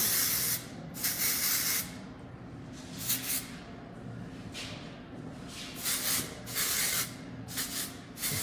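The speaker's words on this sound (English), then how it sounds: "some dry texture spray." Repeated short hissing bursts of Refinish dry texture aerosol spray sprayed on hair, about six or seven spritzes at irregular intervals, close up over a steady low background hum.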